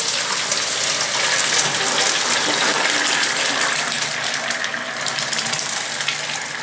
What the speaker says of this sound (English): The rice is half done now, so I'll remove it. I'll drain this excess water.